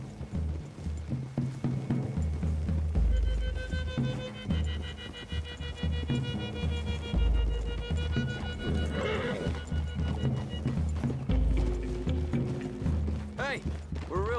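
Horse hooves in the video game Red Dead Redemption 2 clip-clop steadily over ground, mixed with horse whinnies and snorts, with voices talking now and then.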